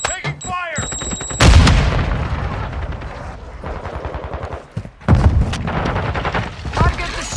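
Gunfire in the video game Call of Duty Modern Warfare 2 sounds as loud, rapid bursts of automatic shots with sharp booms, up close and repeated across the match, mixed with game voices.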